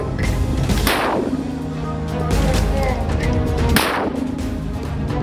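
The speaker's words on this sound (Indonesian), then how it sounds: "Brigade Mujahidin menghantam kumpulan tentara Zionis Israel dengan menggunakan mortir kaliber 60 mm" Several heavy blasts of 60 mm mortar fire boom out at intervals, each a sharp burst with rumbling decay, amid noisy background sound.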